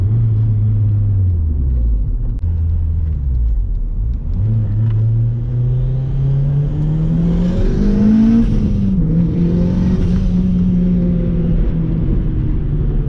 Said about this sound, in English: Fourth gear, boost cutting at 5k RPM.